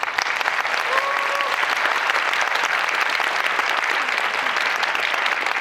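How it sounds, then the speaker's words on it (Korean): A crowd applauds at a Korean film screening and audience Q&A event with the director and cast, a loud, dense and continuous wall of clapping that fills the whole stretch. "다시 한번 뜨거운 박수 부탁드립니다."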